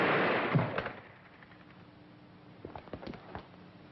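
Gunfire in a 1938 crime film, a burst of sharp shots at the start that fades out, then a scattered volley of fainter cracks near the end, heard at a moderate distance with no talk.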